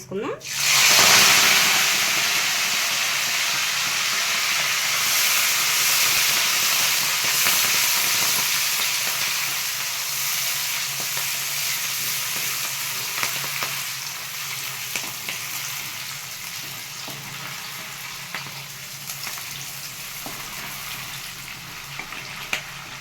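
Fenugreek leaves dropped into hot oil with fried tempering spices set off a loud burst of sizzling, which settles into a steady, close frying hiss that slowly softens over about twenty seconds.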